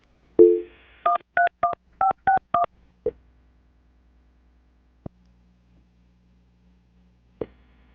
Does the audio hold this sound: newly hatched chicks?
no